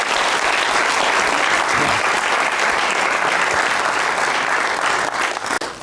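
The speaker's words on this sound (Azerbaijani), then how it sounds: "gəlin bir siz özümüzü bir alqışlayaq" A studio audience at an Azerbaijani comedy show bursts into sustained, loud, dense applause that runs steadily for several seconds before tapering off slightly at the end.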